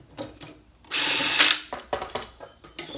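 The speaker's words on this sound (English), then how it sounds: "I'm using the drill driver." Cordless drill driver removing nuts on a Ford sickle bar mower, one close, loud whirring burst of a bit over half a second, followed by quieter metallic clicks and handling knocks.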